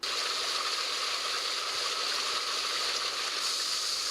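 Steady, close rush of water spilling over a rebuilt stone waterfall into a small spill pond of a repaired koi pond, a continuous even splash with no voices.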